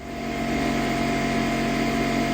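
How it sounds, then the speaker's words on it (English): An air compressor runs in a garage during an accessory swap on a 1973 Ford van, a steady droning motor hum that holds level throughout with no talk. "we're fighting the air compressor"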